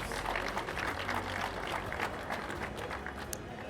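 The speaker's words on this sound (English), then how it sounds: "Give them a round of applause." Steady applause from a crowd at a graduation ceremony, dense continuous clapping at moderate volume throughout with no pauses.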